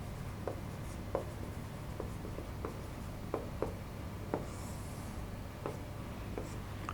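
Pen or marker writing on a board during an accounts lesson, giving scattered soft taps and short scratchy strokes at an uneven pace, faint and with no speech.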